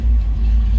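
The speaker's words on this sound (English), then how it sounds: "fire it up, let's hear it run" A 1964 Chevrolet Impala two-door hardtop engine running after a cold start, a loud steady low rumble close by, alone without speech.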